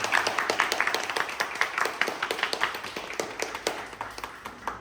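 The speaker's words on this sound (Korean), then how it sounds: "다시 한번 박수" Applause at the close of an emergency maintenance class, with dense, steady hand clapping from a small group close by that runs the whole time with uneven, overlapping claps.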